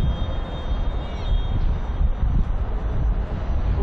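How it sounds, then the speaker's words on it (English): Steady wind buffets an outdoor football pitch at an international match in Zimbabwe, a continuous broad rushing roar with microphone wind noise that swells and dips throughout, no clear voices above it. "It's certainly windy."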